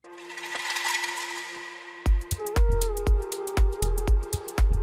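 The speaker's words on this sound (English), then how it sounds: "Yeah, I like this metal rattle sound." A washy metallic texture gives way to a rapid series of clattering metal rattles, dense and jangly, close and fairly loud.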